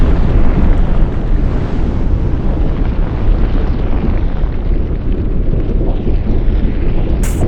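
A 100-pound propane tank detonation burning as a sustained fire, a loud, continuous roaring rumble with wind-like buffeting that stays steady for several seconds before a sharp brief click at the end.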